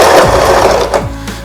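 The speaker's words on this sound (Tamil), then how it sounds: "பிடிச்சிட்டு நான் வந்து ஸ்டிச் போடுறேன் பாருங்க." A Singer Start 1306 sewing machine stitching cloth, a loud close mechanical whir with rapid rhythmic needle clatter, running continuously and alone.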